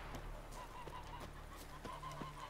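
Geese honk in a Witcher 3 game scene, a few faint, scattered honks and clucks sitting low beneath quiet ambient background sound.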